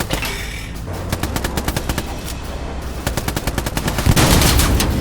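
Rapid bursts from a vehicle-mounted machine gun in the shooter game Hell Let Loose, loud and close, firing in repeated staccato volleys with a heavier rumble of battle underneath.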